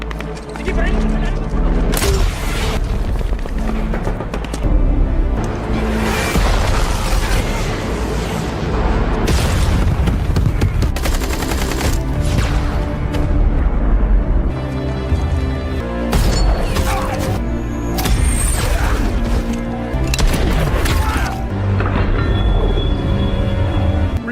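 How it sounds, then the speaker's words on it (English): RPG explosions and heavy gunfire rage during an action-film firefight at a compound, a loud, continuous barrage of booms and bursts layered with shouted voices and a music score. "We're taking RPG fire on the southeast side of the compound, 200 meters south of my position."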